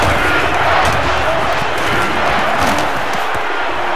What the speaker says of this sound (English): crowd is really letting them hear it.